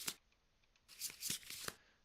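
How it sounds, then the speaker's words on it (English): A deck of Kingdom Death: Monster board game cards is shuffled, one quick riffle burst followed after a pause by a longer run of crisp flapping riffles, close and fairly quiet with no speech. "let's shuffle these a few times"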